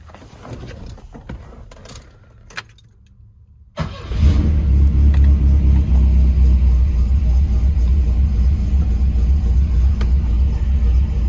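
A Volvo 240 after an LH2.2 fuel injection swap cranks briefly, catches and starts, then settles into a loud, steady idle and rev rumble close by for several seconds, with no talking.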